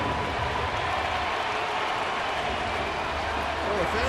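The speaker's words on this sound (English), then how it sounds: "the fans have had something to cheer about" Baseball crowd in a stadium during an Oakland at Kansas City game, a steady broad roar of cheering and applause that holds for several seconds with no break, the commentators' voices faintly mixed underneath.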